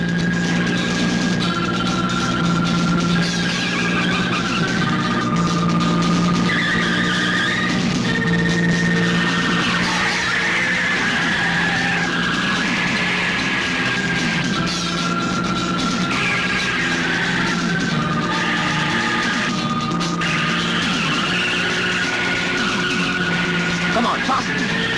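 Tires screech and skid as a car speeds through a chase, the squeal sliding up and down over a constant engine roar, loud and close for the whole stretch, with voices briefly heard over the din.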